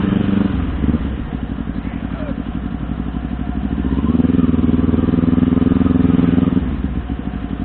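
A Kawasaki New Ninja 250 motorcycle engine idles steadily after an oil change, a close continuous purr that swells louder for a few seconds before settling, with no talking over it.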